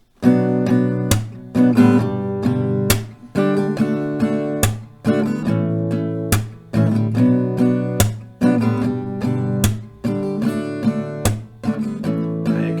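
An acoustic guitar strums a steady rhythmic pattern, with sharp claps landing regularly between the strums, played alone.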